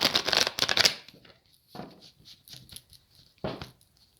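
Tarot cards being shuffled up close, a quick burst of riffling followed by softer scattered taps and two more short riffles, with no talking.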